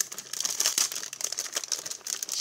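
Cardboard surprise package being opened up close, with a steady run of crinkling and tearing of paper and cardboard that lasts the whole stretch, moderately loud and with no talk over it.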